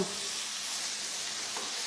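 Whole spices for a radish sabzi crackle in hot oil as a tempering, a steady close sizzle with no talk.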